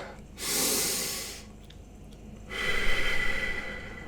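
A deep breath drawn in through the nose, then a pause, then a long audible exhale, both close and breathy with no talking.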